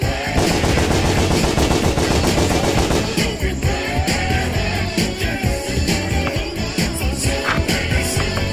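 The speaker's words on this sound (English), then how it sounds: "Targets all foes and attacks them with bullets." Rapid gunfire bursts from a bullet attack aimed at all foes in the Barkley, Shut up and Jam Gaiden RPG, dense rattling shots over loud game music, shifting to sparser, punchier hits partway through.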